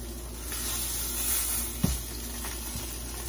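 Blackened salmon sizzles skin side down in a pan, a steady close hiss broken by a brief thump and scrape as the fillet is flipped.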